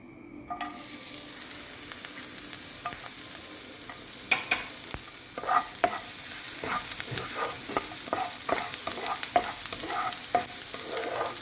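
Crushed ginger and garlic frying in a pan, starting with a sudden burst of sizzle, then a constant close hiss with irregular crackles and utensil scrapes, no one speaking.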